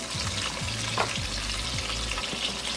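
Oxtail pieces browning in a hot pan, a steady sizzle with a few low scraping and shifting thumps, close and without voices.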